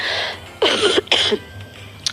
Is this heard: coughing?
yes